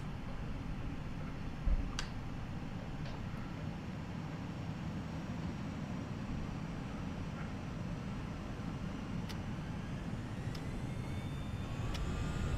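Airbus A319 jet in the Prepar3D flight simulator on its takeoff run, a steady broadband engine roar with a continuous rumble that holds level throughout, and a few faint ticks and clicks scattered over it.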